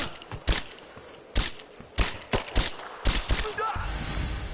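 Gunfire in Rise of the Tomb Raider: a series of sharp, loud shots in uneven bursts, some doubled, over a noisy combat background, ending in a denser rumbling stretch.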